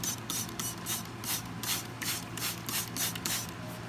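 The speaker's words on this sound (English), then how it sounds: "I am gonna try the liquid fertilizer. 1 spray, 2 spray, 3 spray, 4 spray, right there." Repeated short hissing bursts of a spray bottle misting liquid fertilizer onto potted plants, a steady series of close, fairly quiet puffs with no talking.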